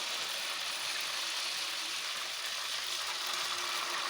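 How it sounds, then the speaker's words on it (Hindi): Spaghetti frying in hot oil in a kadhai, a steady bright sizzle with constant crackle at even level throughout, no voices over it. "मुझे स्पैगेटी को फ्राई करना है"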